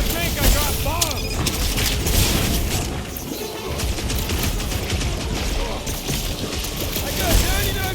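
Bomb explosions and weapon fire in the Guardians of the Galaxy video game, heavy booms and crashes layered over constant combat noise, with characters talking through the chaos.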